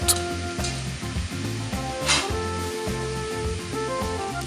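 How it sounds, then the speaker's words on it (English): Squid cubes sizzle in a pot with garlic and thyme, a steady close frying hiss that runs under rhythmic background music. "add the squid cubes and cook for a few minutes until they are lightly colored"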